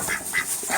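Ducks quack in short bursts, close by and loud, while pecking at thrown chicken scratch, with no talking.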